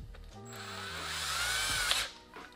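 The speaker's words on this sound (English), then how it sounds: "just gonna drill my basket" A power drill whirs steadily and rises in pitch as it bores a hole in a basket for a bike rack, then winds down near the end; no one speaks.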